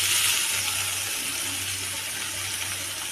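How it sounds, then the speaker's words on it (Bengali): Amaranth greens hit hot oil with deep-browned fried onions, giving a loud, steady broadband sizzle and hiss that stays close and continuous with no talking. "এখন শাক দিয়ে দিচ্ছি।"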